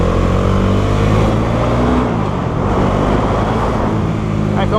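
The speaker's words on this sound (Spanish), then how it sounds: "ahí está un pequeño acelerón" A Bajaj Dominar 400 motorcycle engine blips and pulls in a short burst, a loud, close, throaty rumble that holds steady and then dips slightly midway.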